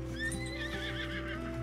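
A horse in the Red Dead 2 video game neighs with a drawn-out, quavering whinny over a steady low hum of game ambience and soft hoof clops, loud and close throughout with no talk.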